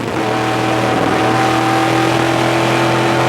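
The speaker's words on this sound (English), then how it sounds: "You can hear him feathering the throttle" Dodge Avenger stock car heard from on board at racing speed, the engine holding a steady loud drone with slight throttle modulation as the driver feathers it, no talk over it.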